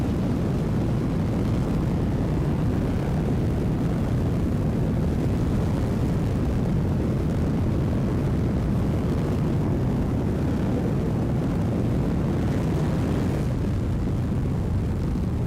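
Rocket launching in Kerbal Space Program 2, a continuous loud roaring rumble that holds steady and dense from start to finish with no voices over it.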